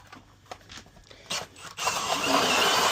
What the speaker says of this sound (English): I start by drilling some holes through the ice